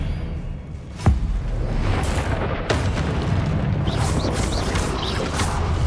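Spell-casting blasts in the video game Hogwarts Legacy, with a sharp crack followed by several booming, crackling bursts over a rumbling bed of combat effects, loud and continuous.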